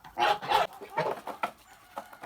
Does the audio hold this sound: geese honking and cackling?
yes